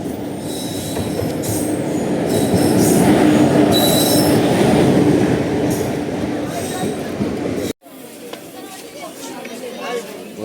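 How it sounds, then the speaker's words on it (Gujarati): A local passenger train pulls into a station on the Junagadh line, its loud rumble and rolling wagons building with screeching wheel squeal before cutting off abruptly, followed by quieter platform ambience with voices. "ફાઇનલી ટ્રેન આવી ગઈ છે"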